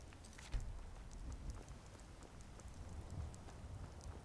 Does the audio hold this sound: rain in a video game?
yes